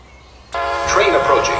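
An MBTA F40PH-3C commuter rail locomotive pulls into Sharon Station in the Roblox game. After a brief quiet start, a loud, close, tonal rumble with a horn-like ring cuts in abruptly and holds steady to the end.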